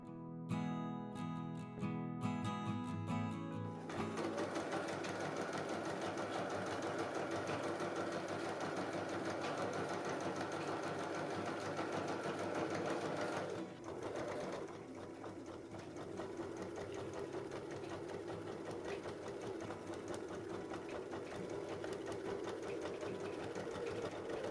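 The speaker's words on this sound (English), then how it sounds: "I'm sewing one side of the boning channel down on the other side of the seam" A sewing machine stitches down a corset boning channel beside a seam, a fast steady mechanical whir running continuously at close range after a brief start.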